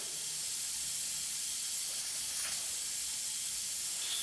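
Continuous loud hiss of compressed air escaping from a valve port, steady and close throughout with no talking.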